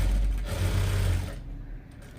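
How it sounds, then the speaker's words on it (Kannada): A sewing machine stitches cloth with a loud, rapid mechanical whir for about a second, then stops, leaving a quieter tail of handling noise. "ಮಿಷನ್ಗೆ ಇಟ್ಕೊಂಡು ದೊಡ್ಡ ಹೊಲಿಗೆ ಹಾಕೋತೀನಿ"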